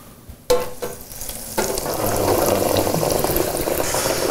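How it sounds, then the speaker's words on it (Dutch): Loud, steady sizzling and bubbling of breaded chicken deep frying in a fryer basket in oil at 180 degrees, starting after a few soft clinks and building to a constant crackle. "We leggen dit in het frituurmandje. Ziezo. En dit gaan we nu krokant bakken op 180 graden."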